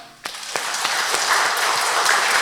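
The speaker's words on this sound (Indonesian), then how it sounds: "Terima kasih, kita beri tepuk tangan" A congregation at a Catholic Mass during a recollection breaks into applause, sharp individual claps quickly swelling into steady, loud, sustained clapping from many hands.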